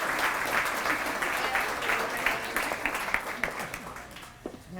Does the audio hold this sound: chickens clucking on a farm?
no